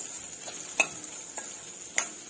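Spices in a tempering for raw mango methamba are stirred in a pan, giving a faint steady sizzle with a few sharp spoon scrapes against the metal.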